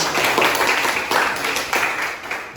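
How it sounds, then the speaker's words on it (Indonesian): A classroom group of students applauds together after finishing a counted step exercise, a dense, steady wash of clapping held at close range for a few seconds. "Tepuk tangan dulu untuk kita semua."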